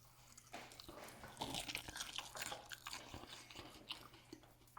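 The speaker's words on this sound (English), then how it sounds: "that crunch comes from the crispy coated Scotch egg" Someone bites into and chews a crispy pork-rind-coated Scotch egg, giving a steady run of crackly crunches close to the ear, faint overall, with a low hum beneath.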